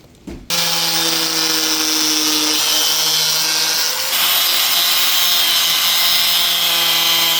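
A power tool starts abruptly and runs loud and close as it cuts through a fiberglass side skirt from a Nissan Skyline R32 GT-R, holding a steady high whine that shifts pitch midway and keeps going to the end.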